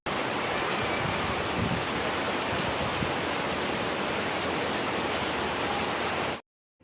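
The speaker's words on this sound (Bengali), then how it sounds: "বলতে বলতে একের বৃষ্টি নেমে গেল ঝোড়ো হাওয়া বৃষ্টির সাথে খুব জোরেই নেমে" Heavy rain pours steadily with stormy, gusting wind, forming a loud, dense, unbroken wash of noise for about six seconds before it cuts off abruptly.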